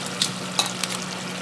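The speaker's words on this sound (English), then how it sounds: "I'm going to add the fish first." Fish hits hot oil in a pot for Senegalese jollof rice and sizzles steadily, with a few sharp metallic clinks of a utensil against the pot.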